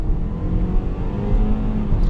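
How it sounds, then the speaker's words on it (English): A 2023 Toyota Corolla accelerates with a smooth, moderate engine whir and road noise that build slightly over a couple of seconds, heard close with no talking. "Even the acceleration is not stressful."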